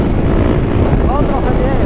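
Wind gusting across a microphone outdoors beside a motorcycle, a steady low rumbling buffet that fills the whole stretch, loud and close with no break.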